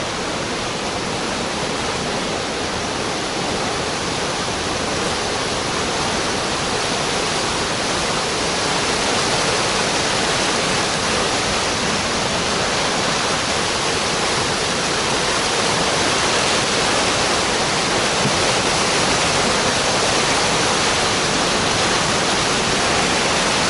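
The raging, flooded Salgir river in Simferopol overflowing its banks, a loud, dense, unbroken roar of rushing water heard close and steady throughout with no other sounds.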